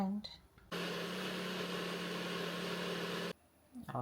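An electric blender runs steadily on ingredients for Ghanaian black chili sauce (shito), a loud continuous whirring drone of about two and a half seconds that starts and stops abruptly, with brief kitchen handling noise before and after.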